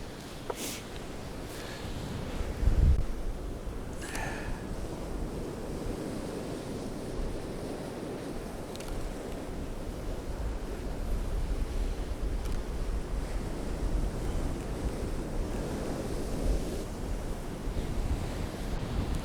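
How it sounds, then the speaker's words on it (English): Waves and wind on a stormy coast: continuous surf roar under loud gusts buffeting the microphone, a heavy, steady wash of noise with no talking. "That wind is quite strong."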